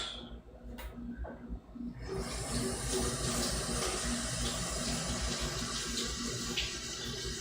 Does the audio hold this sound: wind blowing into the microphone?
no